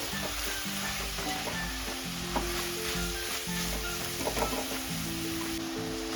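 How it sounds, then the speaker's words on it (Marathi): Sprouted moth beans (matki) sautéing in oil in a pan, a steady, close sizzle with scraping stirring sounds throughout and no voices. "आता आपल्याला अगदी व्यवस्थित अशी तेलामध्ये व्यवस्थित परतून घ्यायची आहे जेणेकरून आपल्याला मटकीनंतर कच्ची लागायला नको"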